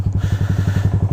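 A Yamaha Sniper 150 motorcycle with a Yoshimura Alpha open exhaust idles loudly up close, popping in a fast, steady, throbbing pulse.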